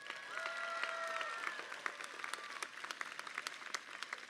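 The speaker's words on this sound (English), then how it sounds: "Please give them a round of applause" Applause from a seated audience at a university spring commencement ceremony, a steady wash of many hands clapping at moderate volume that thins into scattered claps, with faint tonal music or voices underneath.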